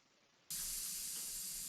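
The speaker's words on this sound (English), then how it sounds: "that sound was the bead popping off the shelf once it lost pressure." A tight tubeless bicycle tire's bead pops off the rim shelf as it deflates: an abrupt burst that turns into a loud, steady rush of escaping air, close by.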